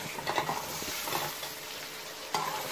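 Chicken and okra for a bhindi dish sizzle and fry steadily in a pan while a utensil scrapes and stirs in short rhythmic bursts, close and alone with no voices.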